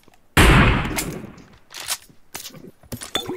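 Groza assault rifle gunfire in PUBG Mobile: one loud close burst followed by several shorter, quieter shots and bursts spaced irregularly.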